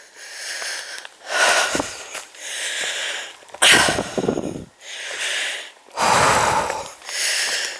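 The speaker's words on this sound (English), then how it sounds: "We got to listen to your heavy breathing." Heavy, ragged breaths in and out after climbing uphill, loud and close, repeating in a slow rhythm of about six deep gasping exhales.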